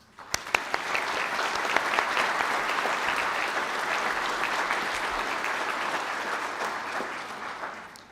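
Sustained applause from a large audience for business graduates at a graduation ceremony in a hotel hall, dense even clapping after a few sharp early claps, holding steady for several seconds.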